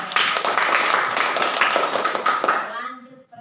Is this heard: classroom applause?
yes